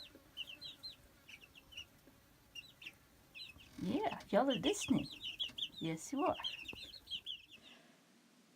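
Soft chick and hen clucking and chirps run under a woman's speech, with faint peeps continuing between her words, close by.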